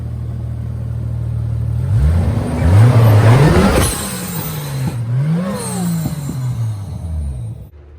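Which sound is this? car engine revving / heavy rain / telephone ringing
car engine revving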